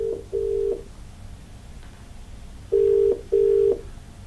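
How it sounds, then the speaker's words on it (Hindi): A telephone call being placed: steady tones sound in short bursts, a pair of quick beeps at the start and then two longer ringback tones after a pause, clear and alone with no voices. "फोन लगाते हैं अपने अगले कॉलर को"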